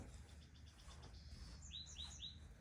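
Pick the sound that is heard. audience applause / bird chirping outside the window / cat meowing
bird chirping outside the window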